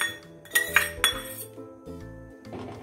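A metal spoon clinks sharply against a pot as roasted dry fruits go into vermicelli kheer, a few bright knocks and scrapes close by with no talking.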